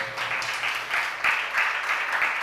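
Audience clapping at a religious discourse, a steady wash of many hands with gentle swells, continuous and fairly close throughout.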